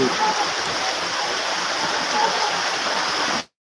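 Steady, dense rain falls as a continuous hiss for about three and a half seconds, then cuts off abruptly.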